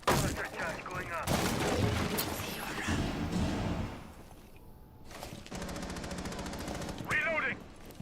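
A cluster charge detonating during a Rainbow Six Siege match, heard as a string of sharp, rapid blasts mixed with gunfire, fairly loud and close, with game voices over the action.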